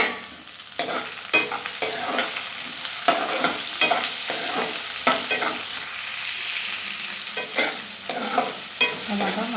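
Tomatoes are stirred and fried in a pan, with a steady close sizzle broken by frequent rhythmic spatula scrapes and taps, all without any talking.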